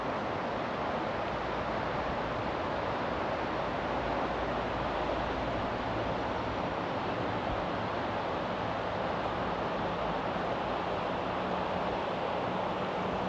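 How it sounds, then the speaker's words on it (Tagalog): Steady rushing water in New Zealand, a dense continuous roar with no breaks, moderately loud and unchanging throughout. "Naririnig mo guys ang ragasan ng tubig."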